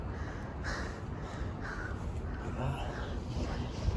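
A crow caws several times at moderate distance, with harsh calls repeating over steady outdoor background noise and faint talking.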